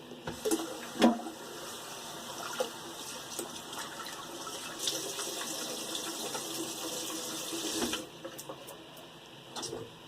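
A bathroom tap runs in a steady, moderate stream of water while someone rinses their face after shaving, with small splashes and a clear drop-off near the end; no talking.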